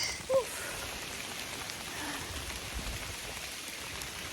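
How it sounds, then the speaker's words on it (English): Rain falls steadily on a hiking trail, a constant hiss of drops hitting surfaces nearby, with one brief louder tap near the start. "Oh, raining quite a bit now."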